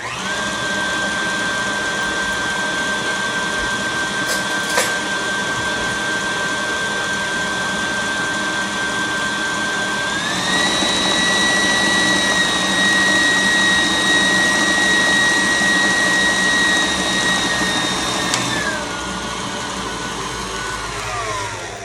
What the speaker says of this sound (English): always when you bring your whisk up out of your mixer, just decrease the speed so you don't sling it everywhere